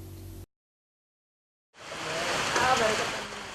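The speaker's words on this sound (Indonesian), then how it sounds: "Siang itu hujan mengguyur desa Kertarahayu, Bekasi, Indonesia." Steady rain pours down on a village in Bekasi, Indonesia, a dense, even hiss that swells in after a brief silence and holds close and fairly loud.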